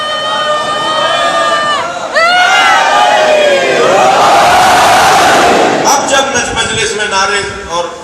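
A crowd at a Muharram majlis gathering chants slogans loudly in unison, rising voices swelling into a sustained roar before breaking into scattered shouts.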